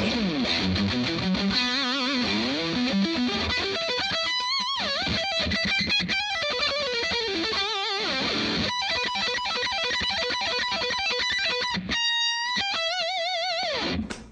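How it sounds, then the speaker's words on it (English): An Ibanez Paul Gilbert Fireman electric guitar plays through a distortion pedal, loud and heavy, with sliding bends and sustained gritty notes that cut off in a couple of short breaks. "if I crank it up a little bit and put a distortion pedal on"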